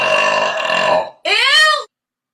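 Two loud, close burps come one after the other, the first long and rasping, the second shorter with a rising then falling pitch, each ending in silence.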